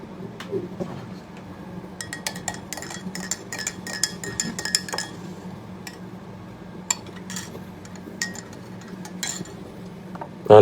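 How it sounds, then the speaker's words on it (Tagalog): A metal spoon clinks and taps against a cup or pot while sugar is added, giving a run of light, scattered clinks at close range over a soft steady background hum. "Lagyan natin siya ng sugar."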